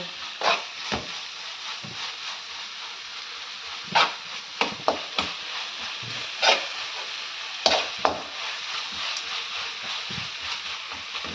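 Food sizzling in a pan with a steady broadband hiss, broken by sharp pops and clacks that sound like a utensil knocking against the pan, all heard close up with no talking.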